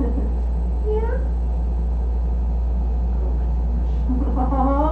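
Kittens about two months old give a few thin rising meows, one near the second mark and another cluster toward the end, over a steady low hum, with people talking softly nearby.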